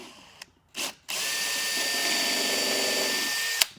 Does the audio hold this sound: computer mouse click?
no